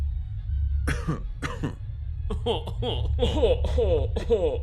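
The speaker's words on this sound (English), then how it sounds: "Even the prisoners cough haughtily." Several harsh coughs and throat clearings from prisoners in the video game Fallout London, spaced out then coming in a quicker cluster, over a low constant hum.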